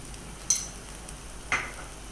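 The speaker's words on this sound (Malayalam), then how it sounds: "ഇനി നല്ലതുപോലെ ഇളക്കി ഈ അരപ്പൊക്കെ ഒന്ന് വഴറ്റിയെടുത്തുകൊണ്ട് വരാം" Masala paste for butter paneer sautés in a pan with a faint low sizzle, broken by two distinct spoon scrapes about a second apart, close and quiet.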